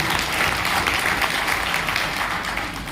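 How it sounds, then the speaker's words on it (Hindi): Audience applause at a business plan presentation: dense, sustained clapping from a sizeable crowd, loud and steady throughout with no voices standing out. "होनी चाहिए जोरदार तालियां इस शानदार कॉन्सेप्ट के लिए"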